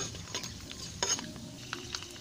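Mustard seeds sputter in hot oil in a pan for sabzi, a soft, faint crackle with a few small pops and light stirring scrapes over about two seconds.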